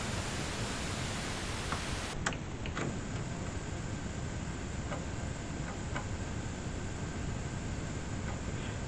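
An Atari 1050 disk drive boots from a freshly formatted disk, giving faint scattered ticks and soft clicks over a steady hiss. No one speaks.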